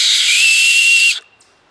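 One loud, shrill whistle blown through an acorn cap, held for just over a second, airy and piercing, then cut off abruptly.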